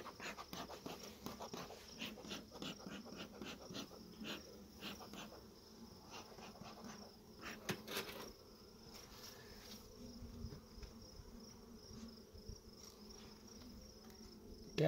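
Honeybees buzzing in a steady drone during an inspection of a beehive, with sharp close passes of individual bees near the microphone and a continuous hum from the open hive.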